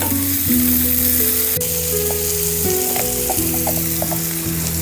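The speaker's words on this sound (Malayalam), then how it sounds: "ഇനി ഈ സവോള നന്നായിട്ട് വഴറ്റിയെടുക്കണം." Long-sliced onions sauté in a pan for tomato fry, giving a loud, continuous sizzle with a few light stirring clicks over steady background music.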